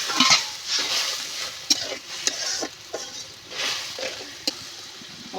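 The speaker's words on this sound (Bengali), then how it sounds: "এবার আমি একটু জল দিয়ে খুব সুন্দর মতো করে মশলাটা কষিয়ে নেব।" Spice paste with a splash of water being stir-fried in a pan for a masoor dal with drumstick leaves, with soft sizzling, scraping strokes and a few sharp clinks of a utensil against the pan.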